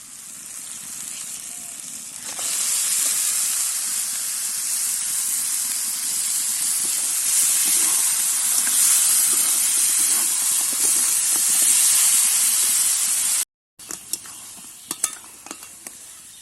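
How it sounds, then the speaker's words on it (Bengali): Prawns hit hot fried masala in a pan, bursting into a loud, bright sizzle that swells after a quiet start and hisses steadily, then cuts out briefly and returns with scattered crackles. "এবারে চিংড়িগুলো দিয়ে দেবো।"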